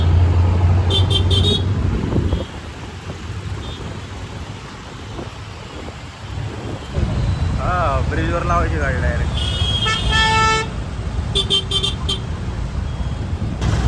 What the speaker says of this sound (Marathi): केवढं ट्रॅफिक आहे, वैताग आले नुसतं सांगतो आपण